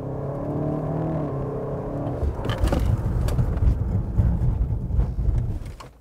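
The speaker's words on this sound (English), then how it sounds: "So let's also do check out the braking performance of this BMW X6M Competition then." A 2022 BMW X6M Competition SUV with big front calipers and drilled rotors, braking hard to a stop: a loud rushing engine and road roar swells, then turns into a rough, rumbling deceleration that fades as the vehicle halts.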